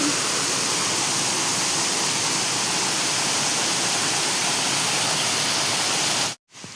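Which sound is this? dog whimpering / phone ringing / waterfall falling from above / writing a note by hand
waterfall falling from above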